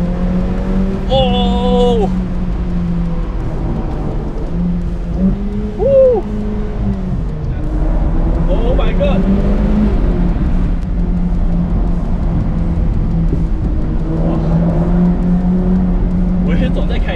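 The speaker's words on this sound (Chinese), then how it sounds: "我真的是很可以很任性的随便降档" Ferrari F8 Spider V8 engine downshifting on a mountain road, a deep steady rumble broken by a few quick throttle blips and rev spikes, heard under someone talking.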